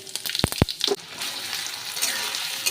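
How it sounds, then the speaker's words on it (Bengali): Cumin seeds hit hot oil in a pan: a few sharp clicks and pops, then a loud, steady sizzle that carries on close by. "তেলটা গরম হয়ে গেছে। দিয়ে দেবো আমি জিরে ফোড়ন।"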